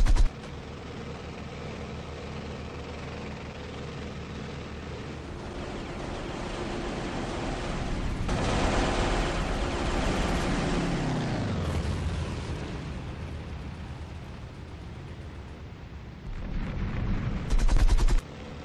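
Aircraft cannon and machine-gun fire from the World War II flight game IL-2 1946 forms a sustained, loud roar of rapid fire blended with engine noise, swelling in the middle and with a sharper burst near the end.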